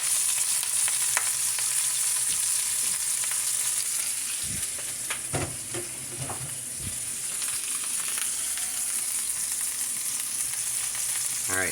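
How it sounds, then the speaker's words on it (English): Pokeweed fries in bacon grease, giving a loud, continuous sizzle and crackle with a few clunks and stirring sounds from the pan and no speech. "I'm going to take this pokeweed just like this, and I'm throwing it into the bacon grease"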